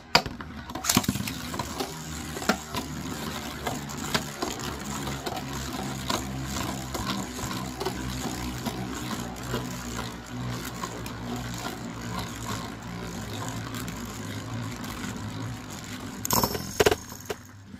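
Beyblade spinning tops, Cyclone Herculeo 105F against Spiral Capricorn 90MF, clash in a plastic stadium, giving a continuous rattling, scraping whir with dense rapid clicks and a few sharper impacts near the start and end.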